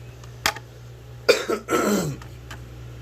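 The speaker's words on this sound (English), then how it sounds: "Sorry to keep coughing." A person coughs several times close by, a couple of sharp single coughs and then a harsher, rougher burst of coughing, with quiet pauses between.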